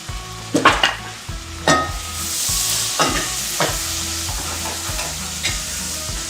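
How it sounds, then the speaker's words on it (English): Onions sautéing in hot butter in a pan that has browned sausage bits on the bottom, a bright sizzle with several close, knocking strokes of a utensil pushing them around. "We got some butter in the pan, nice and hot. Saute these little guys, move them down a little bit."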